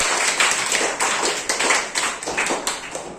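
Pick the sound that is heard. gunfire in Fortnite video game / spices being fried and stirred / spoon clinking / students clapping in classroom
students clapping in classroom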